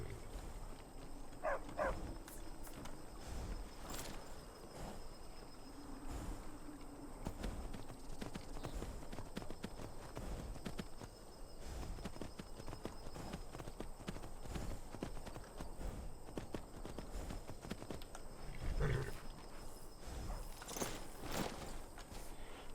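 Horse hooves clip-clop steadily across the ground in the video game Skyrim, a moderately loud walking rhythm running throughout amid game ambience, with a brief whinny-like sound partway through.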